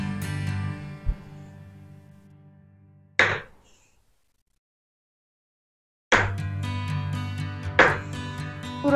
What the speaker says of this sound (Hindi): अब इसे छोटे छोटे टुकड़ों में कट कर लेते हैं।